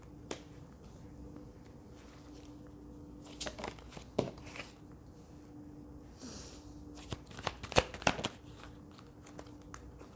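Cards are shuffled during a card reading, a few soft quick riffles and snaps against a quiet background with faint handling sounds between them.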